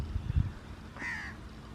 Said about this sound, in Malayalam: കാക്ക, ഒരുപാട് പക്ഷികളുടെ കരച്ചിൽ കേൾക്കുന്നുണ്ട്.